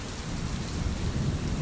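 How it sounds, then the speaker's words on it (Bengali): Soft, steady rain patters in a low, even hiss, fairly quiet and without any voices. "টিপটিপ করে বৃষ্টি পড়ছে"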